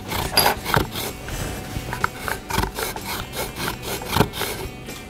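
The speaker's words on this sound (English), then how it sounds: "You are going to zest your lemon, 1 lemon, before you cut it and squeeze the juice out." A single lemon is zested on a grater before being cut and juiced, giving repeated scratchy rasping strokes at close range with no talking.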